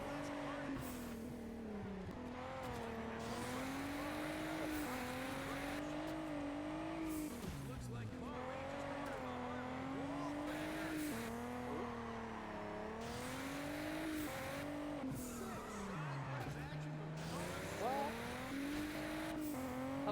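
Race cars in the game Juiced 2, including a Toyota Corolla, with steady engine drones rising and falling through gear changes and occasional tire squeal, while a person talks over them throughout.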